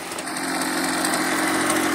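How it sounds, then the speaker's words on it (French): A Yamaha TDR motorcycle engine idles steadily up close, a continuous even mechanical hum with buzzy exhaust tone, quiet despite its expansion-chamber exhaust pipe. "Donc là on est moteur en route."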